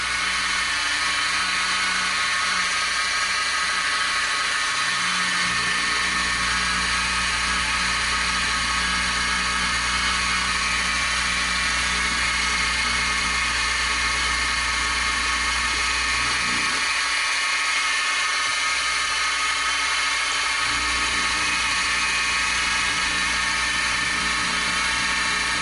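A 2-flute end mill cuts through Delrin on a machine in a hobby workshop while building a Stirling hot air engine, giving a continuous high whining grind with slight shifts in pitch as the cut progresses.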